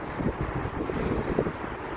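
Gusty wind buffets the microphone in a constant low roar, with no voices, just rushing air throughout.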